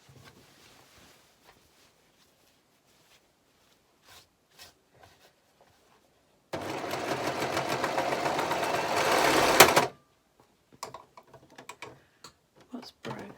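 A sewing machine runs in one continuous burst of about three seconds, stitching the side seams of a dressing gown. Quiet handling clicks and taps come before and after it.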